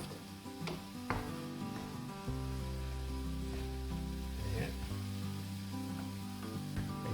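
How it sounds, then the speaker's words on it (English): Caramelised onions sizzle steadily in a pan as they soften and reduce, a continuous close frying hiss with small crackles throughout and no voices. "All nice and sizzly"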